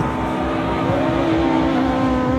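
A Citroën C2 Super 1600 rallycross car races at Dreux with a loud, sustained engine drone whose pitch rises steadily as it accelerates through a lap.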